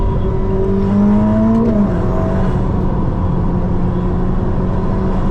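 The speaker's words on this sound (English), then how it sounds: "you hear all the turbo noise and the shift noise that this thing makes on upshifts is unbelievably crazy" A 2025 Ferrari SF90XX hybrid supercar with a turbocharged engine drones loudly and steadily from inside the cabin, with a rising whir and faint shift-like changes in pitch as it accelerates.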